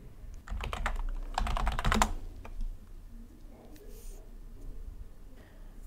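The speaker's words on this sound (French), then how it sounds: "puis je tape mon mot-clé" Rapid keystrokes on a computer keyboard as a search keyword is typed, a dense burst of close clicking over about two seconds, then quieter scattered taps and room noise.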